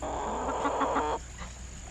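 Salmon Faverolle and buff Cochin chickens cluck softly in short repeated notes against a steady background hum, the clucking stopping partway through.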